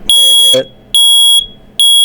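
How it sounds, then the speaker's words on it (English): Loud, piercing electronic beeps from a combination smoke and carbon monoxide alarm, three long tones separated by short gaps, close to the microphone. "this is a combination smoke alarm, CO alarm"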